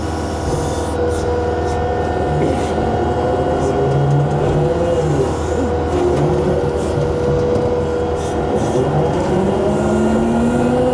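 A heavy machine's engine idles steadily while its cold hydraulics warm up in a garage on a new construction home site, a loud continuous droning rumble with a few faint clanks.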